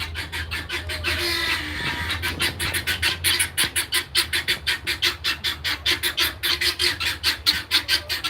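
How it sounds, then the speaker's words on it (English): Guinea hens in a chicken coop give a loud, rapid run of harsh, rhythmic squawking calls, close by and repeating in quick pulses without pause. "That's the guinea hens."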